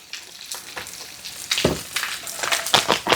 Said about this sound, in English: I'm going to add some brown gravy mix because I like it that way. And we're just going to whisk it into this broth